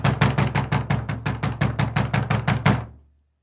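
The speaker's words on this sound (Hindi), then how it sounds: "तभी दरवाजे पर दस्तक हुई" Rapid, even knocking on a wooden door, about fifteen firm close raps in a steady rhythm that stop abruptly, with no voices.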